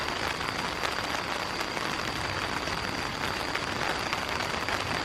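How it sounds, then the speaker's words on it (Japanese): Heavy rain drums steadily and loudly on a small solo camping tent beside a mountain stream, a dense continuous patter with no voices. "めっちゃ雨。"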